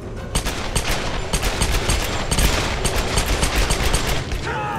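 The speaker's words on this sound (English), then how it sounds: "Press the trigger. Fire again, fire again." Loud, dense gunfire from the Tomb Raider game, with rapid overlapping shots and booming impacts that keep going with no voice over them.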